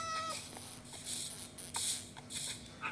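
A game cat lets out a short meow near the start, then a run of faint skittering, clicky game effects, quiet and close with no talking.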